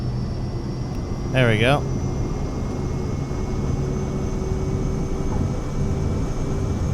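An airliner taking off in Microsoft Flight Simulator 2024, a steady engine roar and high whine held throughout at moderate level, with a brief electronic chirp early on and someone talking over it.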